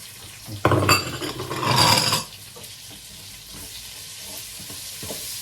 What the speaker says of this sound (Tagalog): Lagyan na natin yung sabay na natin, luya at saka sibuyas mga.